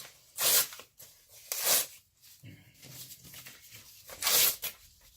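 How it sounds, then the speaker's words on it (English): Paper torn by hand into pieces, three sharp rasping rips spaced a second or more apart, fairly close, with quieter rustling between them. "I'm just going to start tearing some paper here"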